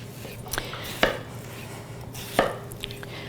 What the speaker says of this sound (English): So, wash the onion. And we're going to get this chopped up.